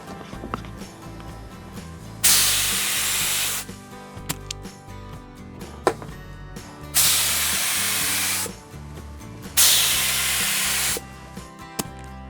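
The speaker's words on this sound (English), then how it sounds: "then spray second and third coats" Three bursts of hissing spray from a paint gun painting a bike frame, each lasting about a second or two, separated by quieter pauses with light clicks and handling sounds.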